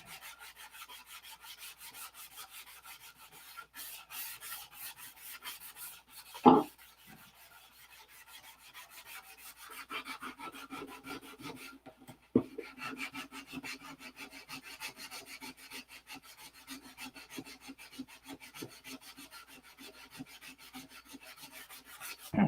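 Hand sanding the wheel doors of a P-47 scale model, a steady close rasping rub going back and forth, with two sharp knocks partway through.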